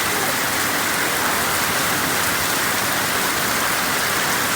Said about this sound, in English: Holy cow, it's raining.